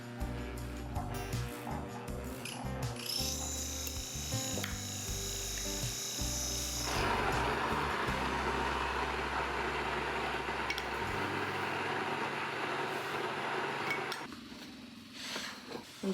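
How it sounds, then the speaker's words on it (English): A Nutrimill Harvest electric grain mill whirs and grinds 200 grams of wheat steadily, its pitch shifting partway through before winding down near the end. "we'll grind our 200 grams of wheat flour"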